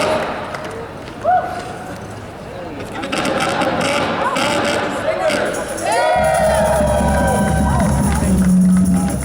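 Crowd cheering and applause at an outdoor make-polluters-pay rally at a state house, a busy mix of clapping, voices and shouts with amplified speech and whistle-like tones joining partway through.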